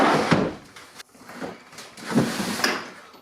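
A workshop drawer slides open and closed several times, with close, loud rumbling scrapes and a sharp knock partway through.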